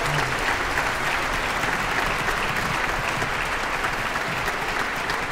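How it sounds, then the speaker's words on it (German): Sustained audience applause at a 2022 New Year's concert by a Tyrolean chamber orchestra, greeting three prize winners; dense, steady clapping fills the whole stretch at even loudness with no voices on top. "einen großen Applaus für diese drei"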